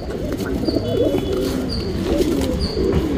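Tournament pigeons cooing loudly and close, a continuous low throaty burbling with repeated rolling coos and a few faint higher chirps over dense flock noise.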